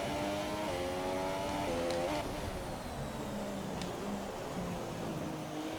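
A Formula 1 race car engine at full throttle in the F1 2017 racing game, a high-pitched whine climbing through gear changes in a wet race, with pitch drops at each upshift and steady, loud tone throughout.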